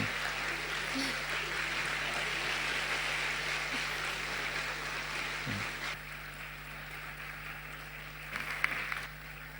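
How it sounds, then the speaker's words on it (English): Steady applause from a crowd, a continuous wash of clapping with a low hum beneath, holding at an even level throughout. "send a warm round of applause"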